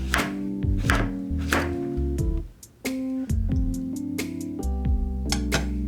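A knife chops green onions on a board in a home kitchen, making a run of sharp, fairly regular close taps with brief pauses, set against steady background music.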